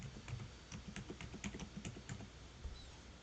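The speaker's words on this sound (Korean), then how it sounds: "영어와 숫자를 포함하셔서 암호를 입력해 줍니다." Rapid keystrokes on a computer keyboard as a password is typed, a steady run of light clicks close by with no talking.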